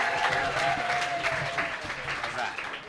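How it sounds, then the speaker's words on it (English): Audience applause for a storyteller at a Moth story slam, steady broadband clapping from a crowd throughout with a faint background voice running under it. "And keep that applause going for Kenny S."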